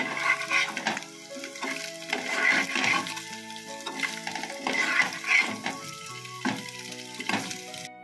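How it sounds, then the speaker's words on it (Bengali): Potatoes frying in a pan of oil, a steady sizzle with scattered crackles and light stirring or utensil clicks, close and moderately loud with no talking. "আলুটাও সুন্দর করে ভেজে নেব।"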